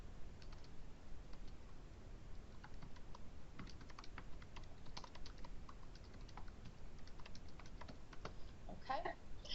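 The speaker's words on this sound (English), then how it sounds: "And I'm just going to type in something here." Steady clatter of typing on a computer keyboard in an office software demonstration, quick irregular keystrokes running throughout at moderate level with a faint low background hum.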